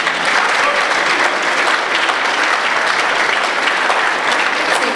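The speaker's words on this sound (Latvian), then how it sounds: "Aplausi pagājušā gada uzvarētājiem." A concert audience at a Latvian town culture house gives sustained, loud, even applause for last year's winning dance group, a dense continuous clapping wash with no pauses.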